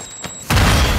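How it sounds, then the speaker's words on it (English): A grenade explosion in the Call of Duty video game goes off as a single loud, sudden boom after a brief quiet, its roar sustaining to the end of the short burst. "Careful, they're using grenades."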